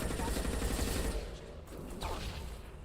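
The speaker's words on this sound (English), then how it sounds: "Firing a high impact shot." Gunfire from a high impact shot in the video game Mass Effect 2, a dense, loud burst of shots and rumble that fades partway through, followed by a fainter metallic clatter.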